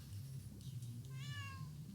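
A cat gives a single clear, drawn-out meow midway, close and distinct over a low steady background hum.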